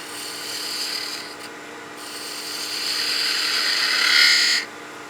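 Spindle gouge cutting an ogee on a wood lathe, a loud, close, continuous hissing scrape of the tool on spinning wood that dips briefly, swells toward the end and then stops abruptly, without talk.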